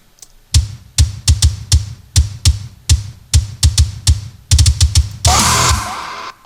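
A punchy kick drum pattern of several blended kick samples, repeated hits in a steady but syncopated rhythm, each thump with a sharp click, ending in a brief burst of noisy wash.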